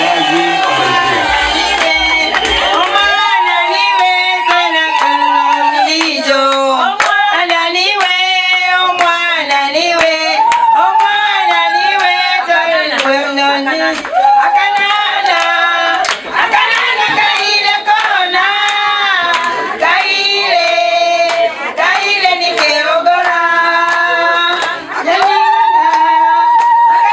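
Wedding crowd ululating in high, wavering trills with scattered clapping, dense and loud for the whole stretch.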